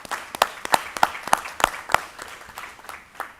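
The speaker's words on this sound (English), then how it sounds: "So just a quick round of applause." A brief round of applause from a school board meeting audience, a handful of sparse, separate claps ringing out near the room rather than a full ovation.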